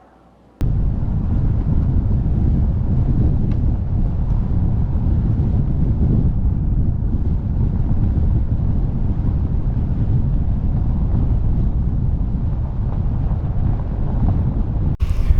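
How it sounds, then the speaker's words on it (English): Strong wind blows across an open dirt road, a loud continuous rumble of gusts pounding the microphone after a brief quiet start, steady throughout with no voices. "It's so windy that it's really hard for the drone to get up."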